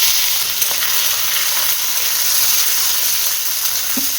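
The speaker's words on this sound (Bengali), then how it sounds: "জিরে, কারি পাতা, গোটা সর্ষে সব ফোড়ন দিয়ে দিয়েছি। দেবো আলু।" Potatoes go into hot mustard oil tempered with cumin, curry leaves and whole mustard seeds, raising a loud, dense, continuous sizzle that fills the moment with no voice over it.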